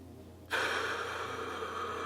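During a box breathing exercise, a single long, deep breath begins abruptly and is pushed out as a steady, close, airy rush that holds its level to the end.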